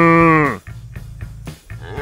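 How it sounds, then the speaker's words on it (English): A cow on an organic beef farm lets out one loud, close, drawn-out moo that fades away, followed by a low steady hum with faint shuffling and a brief softer call. "These are happy cows."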